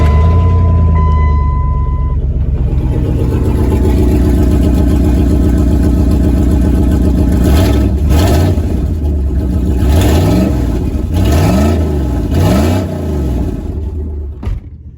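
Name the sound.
1998 Dodge Ram 1500 truck engine starting and revving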